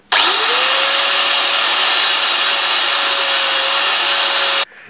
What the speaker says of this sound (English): Back to the grinder of death.